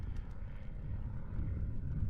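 A propeller aerobatic plane flying at an aerobatics championship, a steady droning engine roar held throughout at moderate distance with no other sounds over it.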